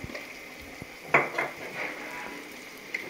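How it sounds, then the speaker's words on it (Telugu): Chole curry being stirred in a pan with salt and chili, a faint sizzle with a few scraping and clinking spoon strokes while a voice speaks briefly. "అన్నీ వేసి బాగా మంచిగా కలుపుకోవాలి"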